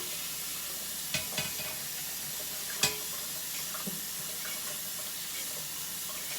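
Lukewarm water blown by mouth through a Yamaha 8310Z trumpet: a quiet, continuous gurgling hiss with a few soft splashy bursts, heard on its own.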